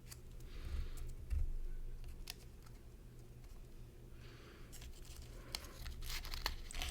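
Paper on a handmade card is crumpled by hand, faint crinkling and soft tearing rustles coming in short, irregular bursts close up in a quiet room.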